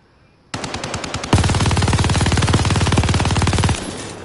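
LMG machine gun fired in the video game Warzone, a loud rapid automatic burst, first a short stutter of shots then a sustained fast stream of evenly spaced rounds lasting about three seconds before cutting off.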